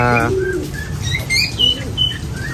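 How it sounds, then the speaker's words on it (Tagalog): A pigeon coos close by in a few soft throaty phrases, with chirps and light rustling around it. "ingay nito isang ibon natin dito mga ka-amigo"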